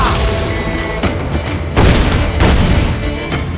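Ship cannons firing in the Assassin's Creed IV: Black Flag naval combat game, a run of heavy booming blasts at about one, 1.8, 2.4 and 3.3 seconds over a dense, continuous rumble of battle noise.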